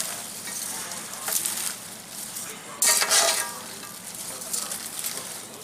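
Food stirred in a hot frying pan, a steady sizzle broken by a few louder scraping sweeps of the spoon across the pan, close up with no voices.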